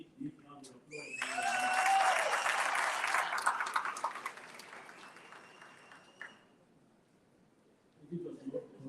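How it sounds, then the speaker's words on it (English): A big round of applause at a public service summit opening ceremony swells for several seconds, then fades out, with a voice speaking faintly before and after. "Once more, a big round of applause."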